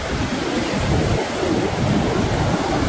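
Surf washes steadily onto Auroville beach at 6:30 in the morning, a continuous broad roar of breaking waves with a cool breeze adding wind rumble on the microphone, no voices.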